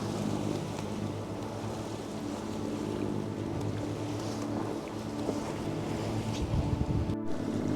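Sailboat engine motoring through rough sea off the Swedish west coast, a steady low drone mixed with wind buffeting the microphone and wash of waves, continuous and close throughout.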